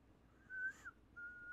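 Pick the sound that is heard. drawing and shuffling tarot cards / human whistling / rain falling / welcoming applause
human whistling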